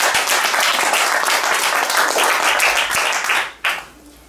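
A burst of dense applause from a sizable crowd, loud and sustained, then quickly dying away into a few scattered claps.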